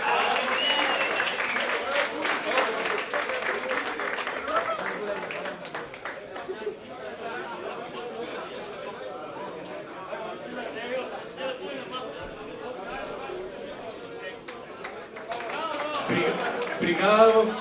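Audience applause at a Sunday league football awards ceremony, loud clapping at first that gives way to crowd chatter and talk, then swells again briefly at the end.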